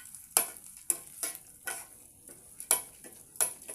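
Methi dal (fenugreek lentils) frying over a low flame is stirred in a pan, giving about six distinct, evenly spaced scraping strokes over a soft sizzle, close and fairly quiet, with no talk.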